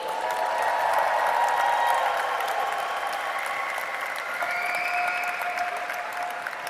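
A crowd at a national diversity awards ceremony applauds and cheers for the shortlisted nominees, dense continuous clapping with sustained whoops and shouts rising over it, loud throughout.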